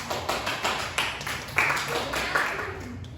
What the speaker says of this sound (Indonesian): Kasih applause dong buat temennya